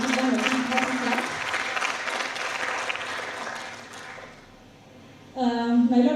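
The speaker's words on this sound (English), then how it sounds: "give them a big clap" An audience applauds at a memorial lecture, a dense wash of clapping that fades briefly before swelling again loudly at the end, with voices mixed into the crowd.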